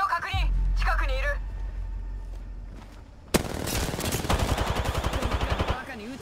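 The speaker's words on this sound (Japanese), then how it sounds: "バカに撃たれてる。" Automatic weapon fire in the video game Apex Legends, a sudden loud burst of rapid, evenly spaced shots that follows a stretch of game voice lines.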